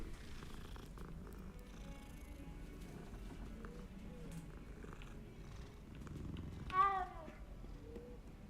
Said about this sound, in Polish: Jeszcze więcej kotów.